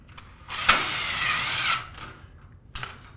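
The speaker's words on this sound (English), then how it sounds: "we drill through the side and the bracket" A power drill whines steadily for about a second, biting through the side of a metal stud channel and bracket, with short mechanical clicks before and after.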